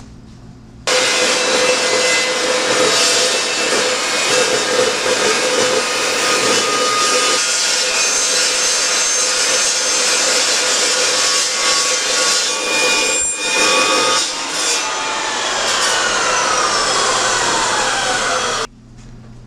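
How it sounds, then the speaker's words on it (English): A saw cuts through a Chrysler 9 1/4 rear axle housing in one loud, close, continuous grinding run of about eighteen seconds, starting and stopping abruptly. "So we're going to go ahead and get to cutting, and we'll cut the other side the same exact way."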